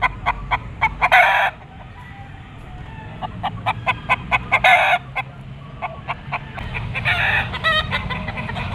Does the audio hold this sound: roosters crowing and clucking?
yes